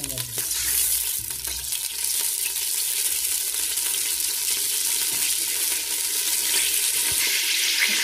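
Food frying in hot oil gives a continuous close, hissing sizzle with faint crackles and occasional stirring scrapes throughout, with no talk.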